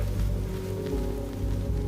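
Torrential rain as an audio drama effect: a dense, steady roar of heavy downpour pounding surfaces, continuous and loud throughout with no voices.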